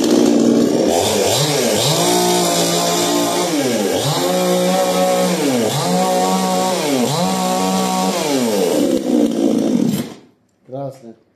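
A Procraft GS-52P gasoline chainsaw is revved repeatedly over cardboard in an oiling test, its whine rising and falling in regular cycles, loud and close, before it cuts off near the end.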